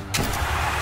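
A Hot Wheels monster truck engine fires up with a short, loud roar that settles into a rumbling idle.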